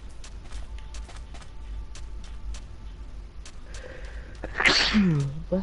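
A single sharp sneeze bursts out near the end of a quiet stretch inside a Minecraft cave session, loud and close, preceded by faint background clicks and hum.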